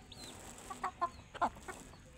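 Desi chickens give a few faint, short clucks, scattered irregularly over about two seconds against a quiet yard background.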